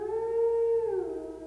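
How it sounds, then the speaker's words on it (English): A single drawn-out dog howl in a night-time audio drama setting, a sustained mournful tone that slides downward at the end, clear and steady with no voices. "Then a dog began to howl somewhere far down the road."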